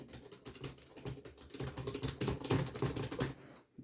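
Rapid, irregular clicks of fingers typing on a computer keyboard, close and clear, in uneven bursts that stop just before the end.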